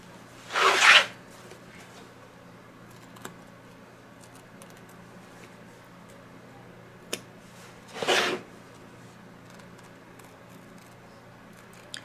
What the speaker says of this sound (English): You want to keep this part of the scissor as flat against the stabilizer and the fabric as you can